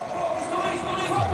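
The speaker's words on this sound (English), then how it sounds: "the crowd are getting warmed up. You can hear them in the background" Spectator crowd at the Le Mans MotoGP circuit before the sprint race warm-up lap, a steady distant roar of many voices filling the background without pause.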